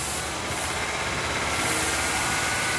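A 2012 Honda Odyssey 3.5L engine raised to 2,500 RPM, a steady loud broadband engine roar with a slight swell toward the end, no speech.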